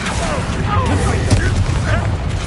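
A Bombarda spell blasts in Hogwarts Legacy, a short booming burst over a dense rumbling backdrop of game ambience, with voices talking over it.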